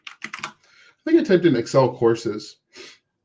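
Computer keyboard typing: a few quick key clicks at the start, followed by a person talking.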